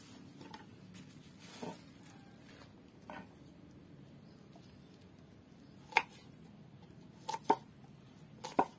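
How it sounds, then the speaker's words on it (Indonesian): Shallots being chopped on a board for homemade organic fertilizer: a handful of sharp, separate knife taps with gaps between, faint against a quiet room hum. "lalu kita pakai bawang merah, kita potong-potong juga"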